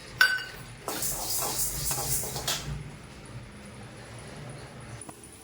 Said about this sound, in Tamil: துவரம்பருப்பு போட்டுக்கலாம் அதையும் நல்லா கலர் மாறுற மட்டும் வறுக்கணும்